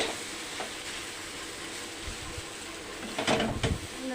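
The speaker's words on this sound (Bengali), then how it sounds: "সুন্দর করে সবজি আর ডিমের ঝুড়ির সাথে চাউমিনটাকে এইভাবে মিশিয়ে নিচ্ছি" Chow mein is tossed with vegetables and scrambled egg in a wok: soft stirring and scraping over a low, steady sizzle, with a few louder clatters of the spatula near the end.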